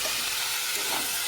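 Boiled banana flower is sautéed in a pan of spiced oil for a curry with potato and chickpeas, giving a steady close sizzle and hiss with faint stirring and no talk.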